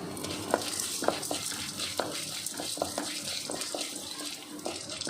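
Onion, ginger and garlic sautéing in sesame oil, giving a soft, steady sizzle with repeated sharp clicks and taps of a utensil stirring in the pan, and no voices.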